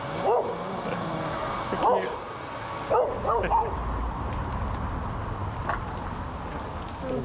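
Dogs barking in a Polish city outdoors, several sharp, nearby barks in short bursts separated by pauses, with background chatter and ambient noise throughout.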